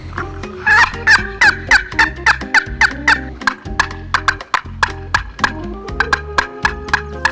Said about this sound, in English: we have a box call to emulate sounds of a turkey